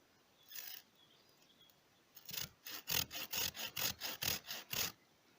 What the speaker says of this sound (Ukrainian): Я користуюсь такою пилкою, хоч вона не оригінальна, китайська, але дуже приємно і швидко нею працювати.